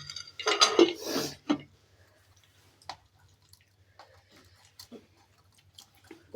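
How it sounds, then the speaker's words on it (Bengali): Soft, close chewing of potatoes, a few wet bites and mouth clicks up front, then sparse faint chews and small clinks spread across a quiet room. "আমি একটু আলু খাই"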